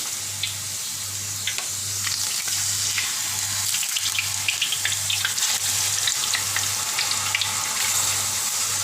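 Oil hisses and crackles steadily as potato slices fry over a low gas flame, with small pops scattered throughout and a low pulsing hum underneath.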